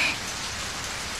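Steady rain falls in Bang Dream Girls Band Party, a dense, even hiss of drops with no voices and nothing else over it.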